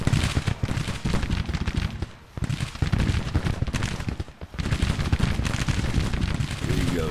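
Musket volleys crackle in a Civil War battle in the strategy game Grand Tactician: The Civil War. Dense, overlapping shots roll on almost without pause, loud and continuous, with brief lulls.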